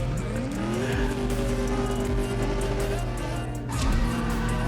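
Mustang GT race car in the mobile drag-racing game CSR2, engine revving steadily at the start line, with a sustained loud engine drone, tire squeal and rising tones, no talk.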